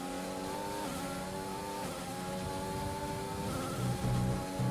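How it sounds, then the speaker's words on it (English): Race car engine revving with shifting pitch and tire squeal as it four-wheel drifts through a corner with oversteer in a racing video game, loud and continuous, no talk. "Bit of oversteer. Pretty much dancing. Four-wheel drifting down that corner."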